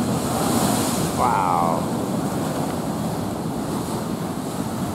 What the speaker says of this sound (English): We got the surf coming in. Here's wave here.